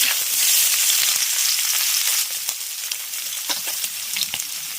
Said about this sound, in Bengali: এবার এর মধ্যে দিয়ে দেব পেঁয়াজ আর কাঁচা লঙ্কা কুচি